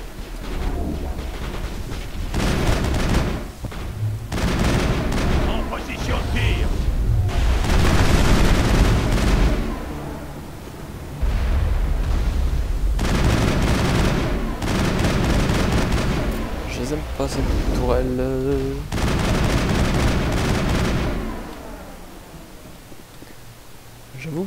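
Repeated heavy cannon blasts in bursts from a turret in the video game Mass Effect, loud and booming, with rattling gunfire between volleys and short pauses of quiet.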